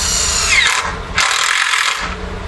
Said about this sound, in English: a percussion drill makes very, very short work of the screws